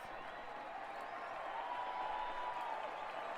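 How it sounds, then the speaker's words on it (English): Steady crowd applause and murmuring from a simulated stadium audience in a baseball video game, honoring pitcher Greg Maddux at his last at bat; a continuous, even wash of clapping with no voices over it. "This crowd gives Greg Maddux a round of applause and appreciation there"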